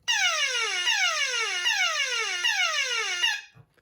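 A 1985 Transformers G1 Shockwave toy plays a shrill electronic sound effect, a repeating falling siren-like sweep about every 0.8 seconds, loud and close, cutting off abruptly.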